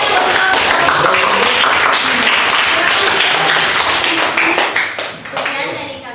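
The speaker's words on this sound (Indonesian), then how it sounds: "Ya, tepuk tangan." A classroom group claps loudly after a student group presentation, steady dense clapping with some children's voices mixed in, tapering off near the end.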